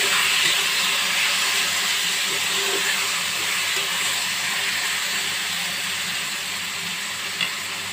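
Banana flower curry (mochar ghonto) frying in a pan, a steady broadband hiss and sizzle that holds at an even loudness throughout, with faint scraping from stirring and no voices.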